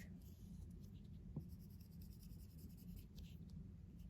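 A pen scratches steadily across paper while a tank diagram is drawn, a quiet continuous scribble over a low room hum.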